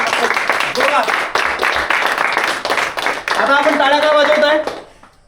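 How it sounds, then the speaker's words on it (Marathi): A seminar audience claps in a hall during a morning welcome session, with dense, sustained applause that swells loud and steady for about five seconds before cutting off, with some voices mixed in. "प्लीज क्लॅप्स टाळ्या वाजवा आणखी जोरामध्ये"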